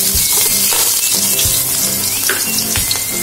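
Finely chopped ginger fries in hot coconut oil, a close, continuous sizzle broken by a few stirring knocks against the pan, with no voices.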